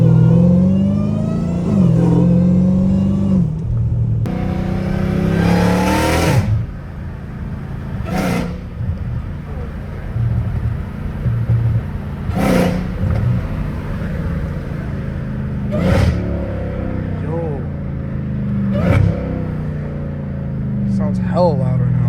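A catless Dodge Challenger Hellcat Redeye engine, loud and close, revving in repeated sharp bursts over a rumbling idle while a person talks throughout.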